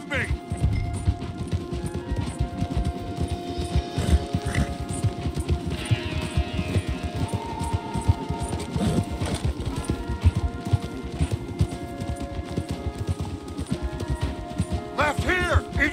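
Horses galloping in Red Dead Redemption 2, a continuous rapid clip-clop of hooves under a busy game mix, with voices talking over it.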